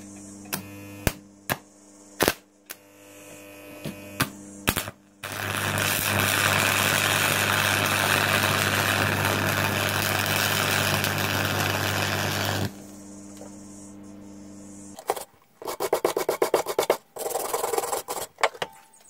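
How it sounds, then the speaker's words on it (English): Arc welding, running a slow bead: a loud, steady crackling hiss holds for about seven seconds. Sharp isolated clicks and pops come before it, and a few rough bursts follow. "I'm getting a feel for striking the arc, and I'm just rolling along nice and slow, forming a bead"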